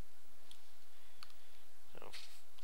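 Calculator keys tapped while working a law of sines problem, a few quick faint clicks scattered over a low steady hum, with a brief cluster of clicks near the end.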